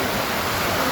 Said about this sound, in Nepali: पानी यति परिरहेको छ।